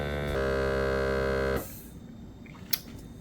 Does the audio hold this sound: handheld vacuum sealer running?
yes